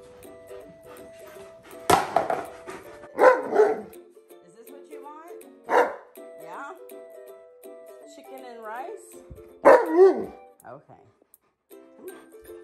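An Alaskan Malamute vocalizes demandingly in repeated bursts of howl-like barks and whines, loud and close, with quieter whimpers in the pauses.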